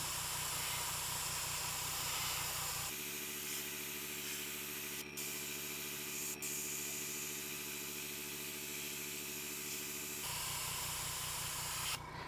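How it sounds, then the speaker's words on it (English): Soft, steady hiss of an airbrush spraying paint during body painting, running continuously at low level, its tone shifting partway through as airflow changes. "Airbrush isn't cooperating very well with me at the moment, so I'm getting a little bit of unevenness"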